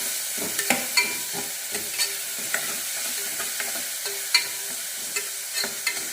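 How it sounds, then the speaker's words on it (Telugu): Curry leaves frying in a pan give a steady, close sizzle, broken by scattered crackles and the occasional scrape of stirring, with no voices. "కరివేపాకు, బాగా ఫ్రై చేసుకోవాలి."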